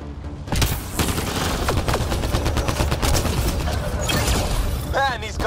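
Rapid, dense gunfire fills a combat firefight in the sci-fi video game Mass Effect Andromeda, loud and continuous bursts layered with mechanical clatter and a few electronic warbling effects near the end.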